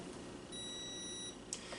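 A Klein Tools voltage tester gives a faint, steady high-pitched electronic beep for about a second, followed by a brief click, over a quiet background hiss.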